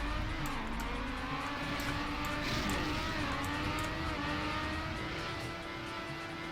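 A race car engine in the TrackMania video game drones steadily at high revs, loud and continuous, with the pitch shifting slightly as the throttle changes and no voices over it.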